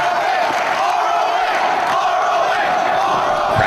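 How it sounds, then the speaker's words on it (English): Wrestling crowd at a San Francisco Ring of Honor match between Bryan Danielson and Austin Aries, cheering and shouting loudly and continuously throughout, a dense roar of many voices with whoops rising above it. "Crowd here in San Francisco appreciative of the technical skill on display from both of these great athletes."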